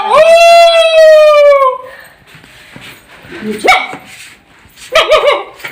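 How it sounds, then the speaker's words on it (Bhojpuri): A big dog barks and howls with a long drawn-out wail, then lets out sharper barks and yelps at intervals, loud and close, with a person speaking briefly between the barks. "अरे बड़ा कुत्ता भौंकता हो जल्दी आओ"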